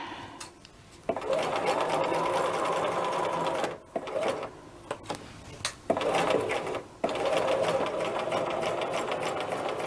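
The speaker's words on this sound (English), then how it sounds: "That is our first row of stitching" A sewing machine runs close up, stitching a sleeve onto a McCall's 8031 dress, humming in long bursts broken by short pauses and brief stops, with no talk.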